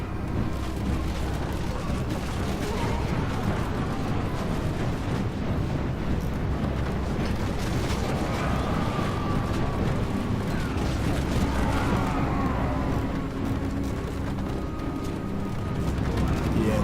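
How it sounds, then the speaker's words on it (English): Missile units fire in battle in Rome Total War, a dense rumbling mass of volleys and impacts with battle noise held loud and steady throughout. "our missile units are going to start firing"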